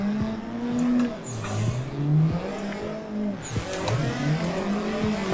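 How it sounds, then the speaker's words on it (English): A drift car's engine in the racing game Assetto Corsa, with throttle blips and revs rising and falling in an uneven rhythm, some tire squeal, moderately loud and alone without talk. "Kind of interesting throttle sounds coming out of this car as far as the rhythm and the timing."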